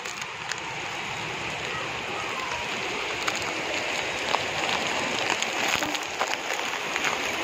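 Heavy rain pours steadily during the rainy season, a dense continuous hiss of drops with a few sharper splashes near the end, at moderate level.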